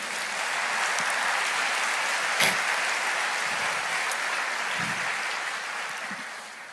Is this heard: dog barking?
no